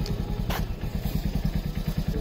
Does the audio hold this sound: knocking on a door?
no